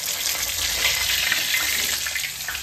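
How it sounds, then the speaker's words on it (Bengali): Rolls sizzling as they fry in hot oil in a pan, a loud, continuous crackle with no talk over it. "এখন বোলটা ভাজা হচ্ছে"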